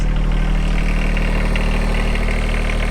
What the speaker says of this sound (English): nice little quiet engine